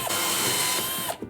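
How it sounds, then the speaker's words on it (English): A power drill bores into a cheap plastic box being built into a game controller, a steady whirring grind lasting about a second before it stops, close and fairly loud. "let's drill"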